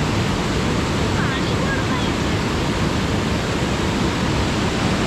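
A small waterfall at a Sita temple by Ashok Vatika makes a steady, dense rush of falling water that fills the scene evenly from start to finish.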